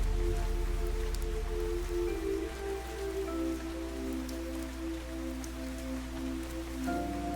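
Rain falls steadily in the video game Fantasian Neo Dimension, a soft, even patter with sparse drop ticks beneath sustained musical tones that hold and shift throughout.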